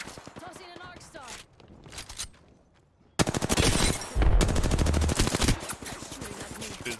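Rapid automatic gunfire in a battle royale shooter game, with bursts of loud close shots and short pauses, mixed with game effects and a player talking over it.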